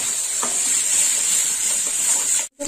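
Tomato paste fries in a pan with a steady, bright sizzling hiss that stays loud and even, occasionally stirred, before cutting out abruptly near the end.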